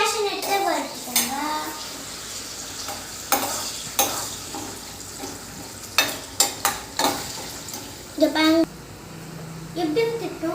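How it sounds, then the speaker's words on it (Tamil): Cashew nuts frying in a pan for carrot halwa, cooked by a child at home: a soft, steady sizzle with metal spoon clinks and scraping against the pan, under frequent talk. "இப்போ கீழே கேஷ்யூ நட்ஸை வறுத்துக்கோங்க"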